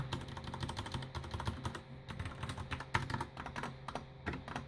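Typing on a mechanical keyboard with black switches: steady, dense keystrokes clack at close range with an uneven rhythm and occasional heavier presses, with no voices.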